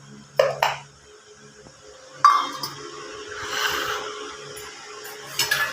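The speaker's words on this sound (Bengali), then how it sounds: "এই যে আমি এখানে ভাতগুলো সব বেড়ে নিচ্ছি" Rice being served onto plates, with a few crisp clinks of dishes and utensils spaced apart in a quiet kitchen, plus soft scraping and handling sounds between them.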